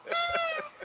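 A single drawn-out cat meow, close and clear, rising and falling over nearly a second with a short trailing chirp at the end, alone without talk.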